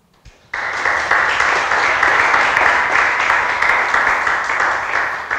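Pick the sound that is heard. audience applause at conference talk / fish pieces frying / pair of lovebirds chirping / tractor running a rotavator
audience applause at conference talk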